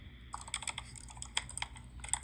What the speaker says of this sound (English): He typing now.